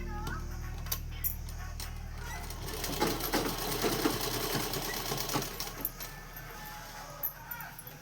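A sewing machine stitches the sleeve of a simple dress, a quiet, steady mechanical whir with small ticking clicks from the needle, running continuously.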